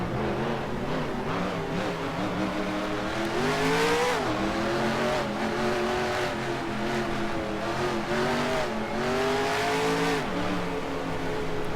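Race car engines roar continuously in the NASCAR Racing 2003 video game, several cars droning and revving together with rising and falling pitch sweeps as they accelerate, loud and steady without talk.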